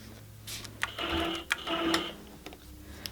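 A longarm quilting machine takes a couple of stitches while sewing binding onto a quilt, short bursts of rapid mechanical whirring and clicking separated by pauses, close and alone.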